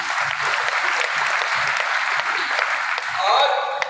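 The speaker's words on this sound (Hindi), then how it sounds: "तालियां बजा दीजिए।" An audience at a lecture in Sultanpur, Uttar Pradesh, claps in a steady, loud roar that lasts throughout. Voices can be heard faintly beneath the applause.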